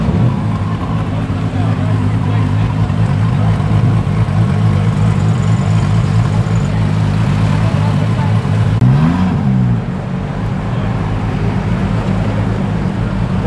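An SRT car pulls away from a car show with a deep rumbling engine, loud and close, a low steady drone holding throughout with a brief rev near the end, while people talk over it.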